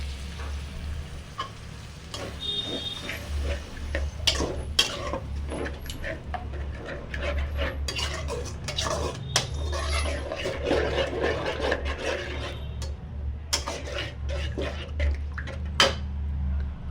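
A spoon scrapes and stirs spice masala mixed with whisked yogurt in a pan for spinach egg curry, giving steady rubbing and clinking against the metal with occasional sharper taps, close and continuous, with no talking.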